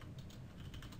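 Quiet, rapid keystrokes on a computer keyboard tap along in a steady stream for about a second, soft and close over faint background hum.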